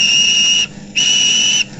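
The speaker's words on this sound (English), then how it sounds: "One morning, he whistled to Gordon" A shrill two-tone steam engine whistle blows twice, a long blast, a brief gap, then another long blast, loud and close.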